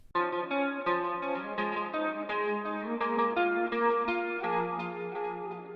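Doubled electric guitars in a Midwest emo lo-fi hip hop track carry a bright, flowing melody in unison without the main guitar, slightly effected and shimmering, steady and upfront throughout with no talking.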